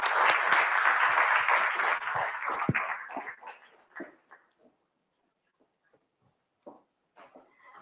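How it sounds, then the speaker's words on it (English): Audience applause for event leaders, steady and full for nearly three seconds, then thinning into scattered claps and fading to near silence with a few late isolated claps. "Can we have one last round of applause for all the leaders"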